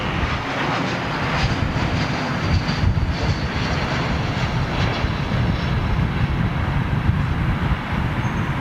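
A Middle East Airlines (MEA) airliner at London Heathrow gives a steady, broad jet-engine rumble and roar that holds evenly throughout, moderately loud and without voices.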